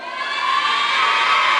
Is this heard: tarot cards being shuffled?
no